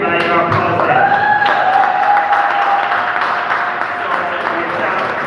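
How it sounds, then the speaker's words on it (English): An audience claps and cheers at the Jam UK Poetry and Storytelling Fest, a steady dense wash of applause throughout, with a voice speaking over it. "Would you say it was a success? Let me hear it by your applause."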